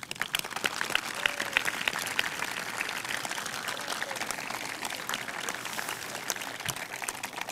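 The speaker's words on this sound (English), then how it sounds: "Can we give them a little applause?" An outdoor audience at a Bennington College degree ceremony applauds the graduating students, a steady, fairly soft patter of many hands clapping that sounds somewhat distant and continues without a break.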